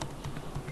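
Typing on a computer keyboard in an Ubuntu workspace, a short run of soft, quick keystrokes at close range with no voices.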